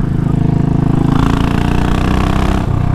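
A Royal Enfield Classic 500 Limited Edition motorcycle engine thumps close and loud in a steady, low-pitched rhythmic beat, idling and revving slightly with no talk over it.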